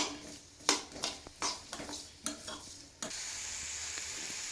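Mango pieces sautéing in a pan for mango pickle, with a spoon scraping and stirring in a series of sharp irregular strokes over a soft sizzle, then a steady louder hiss of frying after the stirring stops.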